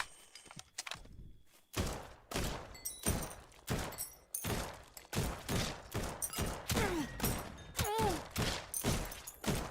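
Rapid rifle shots crack out in a dense, steady volley in the horde-survival shooter Guns 'n Goblins, loud and close, with brief thumps and creature noises mixed between the repeated bursts.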